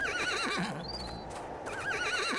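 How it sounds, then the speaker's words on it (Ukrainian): Horse neighs in a video game, a whinnying call with wavering pitch heard twice in quick succession, close and loud, with faint hoof clops and game ambience underneath and no talking. "Окей, це такі коні, як в Скайреймі."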